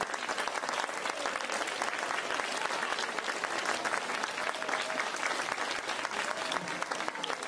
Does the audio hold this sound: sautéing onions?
no